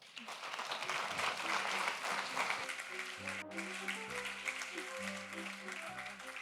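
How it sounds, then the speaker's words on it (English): An audience at a tech talk on AI costs applauds the speaker as she takes the stage, steady clapping fading beneath sustained musical tones. "So a big applause for Serena."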